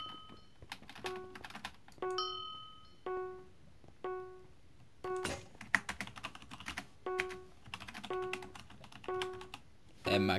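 Typing on a computer keyboard during a Minecraft Hunger Games session: short, irregular bursts of key clacks close up, some with faint tonal chimes, spread across the whole stretch.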